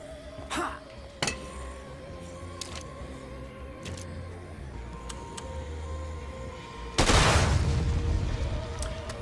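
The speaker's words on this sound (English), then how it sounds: "Very odd explosion. Blew up the chairs and didn't even remotely affect them." A sudden loud blast of an explosion in the Dead Rising 2 video game, a broad burst that lingers for a couple of seconds, preceded by scattered game clicks and thumps.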